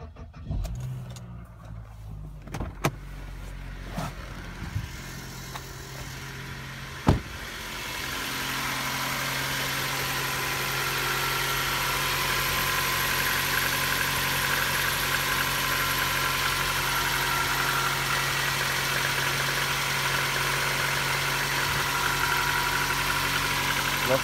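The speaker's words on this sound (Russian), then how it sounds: "Давайте-ка попробуем завести автомобиль и послушать его." Passenger car engine, treated with Resurs additive, cranks over and starts after a few clicks and a brief burst, then settles into a steady, even idle heard close up for the rest of the clip.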